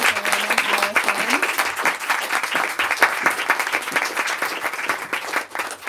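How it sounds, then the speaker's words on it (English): An audience gives a round of applause to speakers at a book event, dense sustained clapping throughout, with a voice speaking briefly at the start. "Let's give another round of applause for Laurie, Catherine, and Alison."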